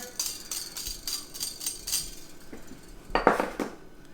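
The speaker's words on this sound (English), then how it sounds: "We'll just scrape off the excess here." A utensil scrapes excess ingredients from a bowl after mashing for a kale Caesar salad, producing a series of light clinks and scratchy scrapes that end in a louder final scrape, close and moderately quiet.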